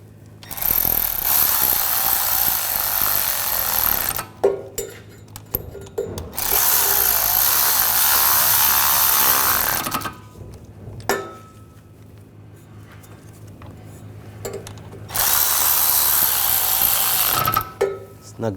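Wheel hub bolts on a Buick Encore rear wheel bearing being driven in with a power tool, three long loud whirring bursts separated by short pauses with faint clicks and handling noise.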